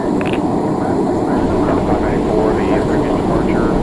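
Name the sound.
airliner engines at takeoff in Microsoft Flight Simulator 2020 video game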